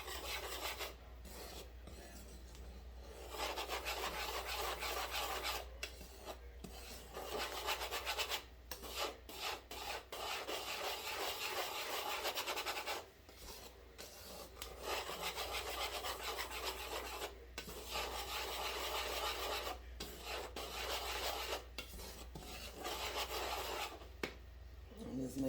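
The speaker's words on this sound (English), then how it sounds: "we're going to just go ahead and just mix it up. You're going to need you a whisk" A whisk stirs homemade brownie mix in a bowl with continuous soft scraping and rubbing, stopping briefly several times before resuming, quiet and close.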